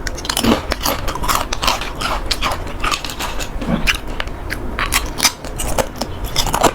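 Someone bites and chews a crisp, freshly made sweet snack with added sugar, making close, loud, continuous crunching with repeated sharp crackles and no talk.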